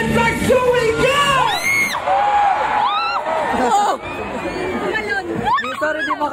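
A festival crowd shouts and whoops on cue, with many voices yelling and cheering at once in a loud, dense roar that carries steadily throughout.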